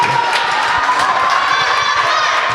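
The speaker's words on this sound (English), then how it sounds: "You see they're cheering for Liana Lapp again" Crowd at a girls' JV volleyball semifinal cheering and shouting loudly and steadily throughout, a dense wall of young voices in a gym.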